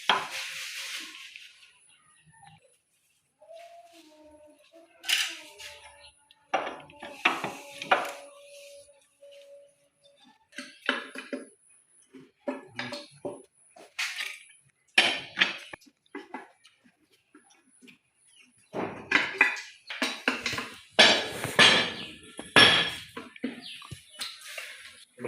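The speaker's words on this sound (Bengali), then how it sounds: "সমান সমান করে প্রত্যেকটি নাট টাইট করতে হবে" Head nuts on a 25 HP diesel engine are tightened evenly with a lever, giving sparse, close metallic clanks and clicks in irregular clusters, denser toward the end, with quiet gaps between.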